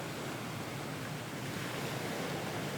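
Ocean waves wash gently onto the shore in a continuous soft roar, broad and steady with a faint breezy quality and no talking.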